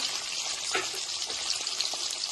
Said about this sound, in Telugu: ఇవి కూడా దీంట్లో ఫ్రై చేస్తున్నాం